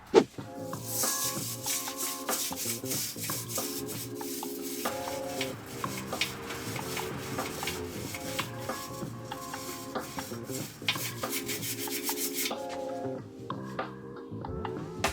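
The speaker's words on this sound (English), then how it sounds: "we're going to try to scrub off with the WD-40" Steady scrubbing and rubbing on a steel bike frame to get rust off with WD-40, faint and continuous for about fifteen seconds, with scraping strokes under quiet background music.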